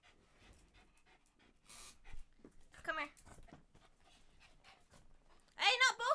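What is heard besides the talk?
puppies panting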